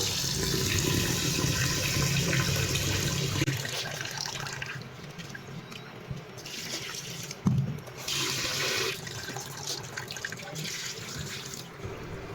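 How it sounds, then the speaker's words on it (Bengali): Rice is washed in water in a home kitchen, with running and sloshing water that churns loudly at first, then softer swishing with a brief splash, close and with no talk. "আমি চালটাকে ধুয়ে নেব"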